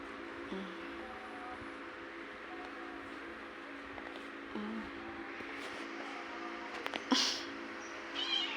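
A cat meows a few times at spaced intervals over a steady background hum; the last cry is the loudest and highest.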